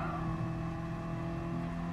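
A race car engine drones and strains at high revs in the Gran Turismo Sport video game, a steady whirring tone held for a couple of seconds at moderate volume.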